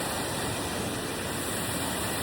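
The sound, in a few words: water flowing, waterfall stream in Dharan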